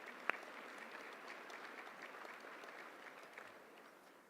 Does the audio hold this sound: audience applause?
yes